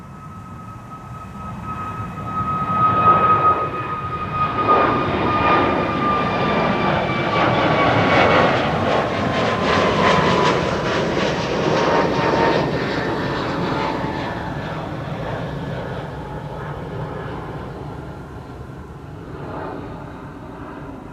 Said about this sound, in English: Well, the Chinese A350 is on the move.